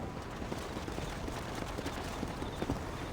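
Horse hooves clip-clopping at a steady trot in Red Dead Redemption, a continuous even rhythm at moderate distance over a soft background, with no talking.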